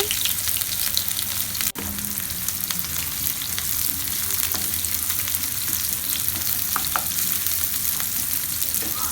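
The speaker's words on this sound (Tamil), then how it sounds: "எண்ணெய் சூடானதுக்கு அப்புறமா நீளமா நறுக்குன வெங்காயம் சேர்த்துக்கோங்க." Steady, crackling sizzle of onions frying in hot oil, continuous and close, with a brief sharp clatter near the start.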